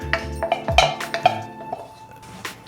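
A spoon stirs muffin batter in a bowl, giving a few clinks and scrapes against the bowl followed by softer mixing.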